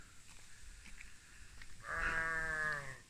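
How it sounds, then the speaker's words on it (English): Sheep bleating outdoors during a dog walk: one drawn-out, wavering bleat rises clearly after a quieter stretch of faint background noise, with no speech. "Oh, that's a sheep."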